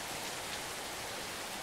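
Steady rain falls outside in the horror game Deer, a soft, even wash of drops with no break across the short stretch and no voices over it.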